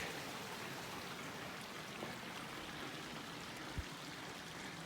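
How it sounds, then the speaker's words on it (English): A small creek flows beside a hiking trail, a steady faint broadband babble of running water with no talking and only a tiny tap near the end. "Nice little creek."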